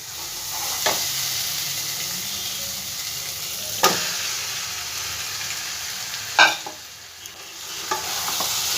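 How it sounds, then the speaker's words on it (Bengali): Chicken pieces frying and being stirred into well-fried spice masala for a chicken and cauliflower curry: a steady close sizzle broken by a few sharp scraping clicks of the spatula against the pan, with no talking. "এই পর্যায়ে আমি চিকেনটা দিয়ে দেবো মশলার মধ্যে"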